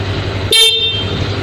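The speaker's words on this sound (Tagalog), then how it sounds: "mas malakas yung busina ng Click kaysa sa Miyusoul" A single short horn honk from a Honda Click 125i scooter sounds over its steady idling engine, close and loud, lasting only a moment.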